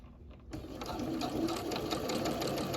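A sewing machine runs continuously at steady speed, stitching elastic onto a fabric face mask, with a dense close mechanical whir that starts abruptly after a brief quiet moment.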